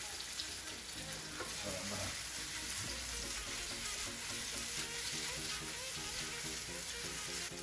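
Pork chops and spare ribs simmer and fry in a saucepan of Sunday gravy, giving a steady, dense sizzle and bubbling with soft stirring clatter throughout, close and continuous with no voices.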